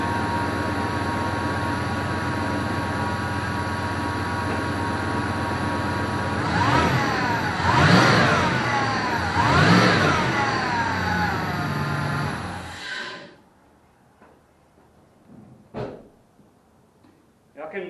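A 1997 Ram 1500 with a newly installed air intake idles loudly, then revs twice in quick rising surges before the engine shuts off, leaving quiet with a few small knocks.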